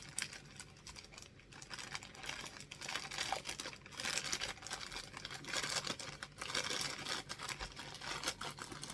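A sealed plastic package from a Temu haul being opened, with continuous crinkling and tearing of plastic wrap close by for several seconds, irregular rustles rising and falling in loudness.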